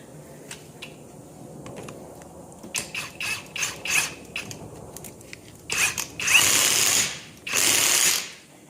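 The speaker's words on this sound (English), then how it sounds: "So we're going to run that down with an impact" Impact wrench runs down a 27 mm nut on a Datsun FS5W71B five-speed transmission, with two loud sustained bursts near the end, preceded by clicking and clanking of tools and parts close by.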